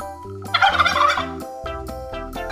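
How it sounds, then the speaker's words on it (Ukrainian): A turkey gobbles in a rapid, warbling burst over light background music, loud and close. "індик."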